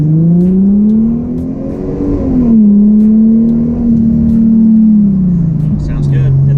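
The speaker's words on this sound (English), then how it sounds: "Let's hear that exhaust again." Exhaust of a 2005 Chrysler Crossfire Limited sports car revs up and settles in smooth rising and falling engine tones, loud and close, with a voice talking over part of it.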